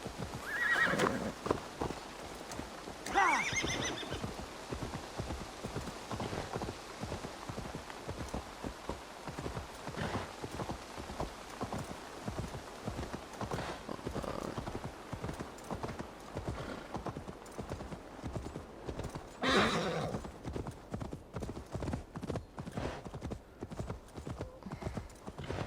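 Rapid, steady clip-clop of a horse galloping in the Assassin's Creed Valhalla video game, loud and continuous throughout, with a few whinnies breaking in and a brief burst of gameplay noise near the end.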